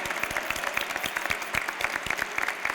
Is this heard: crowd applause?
yes